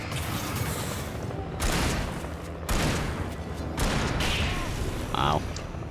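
Shotgun blasts in the Alan Wake video game boom out in several loud, separated bursts amid a noisy, cluttered mix, with a voice talking between the shots.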